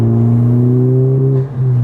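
A manual transmission car engine revs to around 4,000-5,000 RPM, a loud, steady droning hum heard up close that holds its pitch and briefly dips near the end before resuming.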